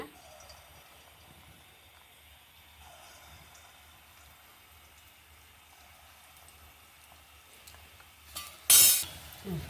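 Sweet jackfruit mulka fritters from Kundapura fry in hot oil in a pan with a faint, steady sizzle, then a sudden loud clatter near the end.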